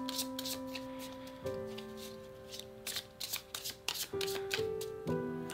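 Tarot cards are shuffled nearby in quick riffling bursts and soft slaps, over quiet sustained background music.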